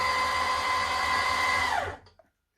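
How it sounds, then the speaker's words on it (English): Electric motor of a homemade mini mill runs with a steady, strong whine and hum for about two seconds, then winds down and stops, followed by a small click and silence. "The motor seems to be very strong"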